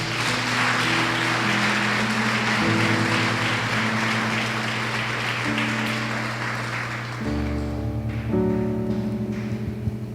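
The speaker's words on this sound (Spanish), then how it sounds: "¿Cuántos pueden darle un aplauso al Señor?" Church congregation claps along under sustained organ or keyboard chords, the applause a steady wash of moderate loudness blending with the music throughout.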